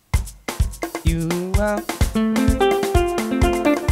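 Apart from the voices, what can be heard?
keyboard playing makossa chords with drums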